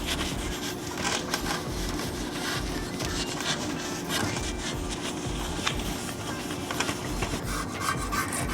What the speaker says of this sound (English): you just keep on moving the ball, scrape, scrape, scrape